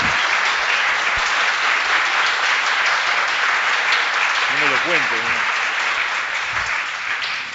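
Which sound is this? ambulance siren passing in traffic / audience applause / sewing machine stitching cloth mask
audience applause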